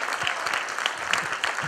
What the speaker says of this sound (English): May I have a round of applause for these risk takers,